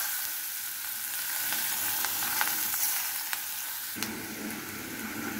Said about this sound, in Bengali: পেঁয়াজটা আমি আধা ভাজা করে নিচ্ছি